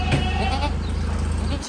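Goats bleat in a farmyard pen ahead of the Eid sacrifice, their cries sounding close over a steady low hum and a busy background.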